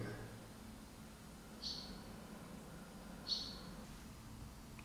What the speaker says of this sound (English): These birds have been trying to figure out how to leave this room for like 10 minutes.